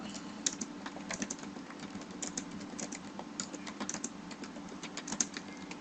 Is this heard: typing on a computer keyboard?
yes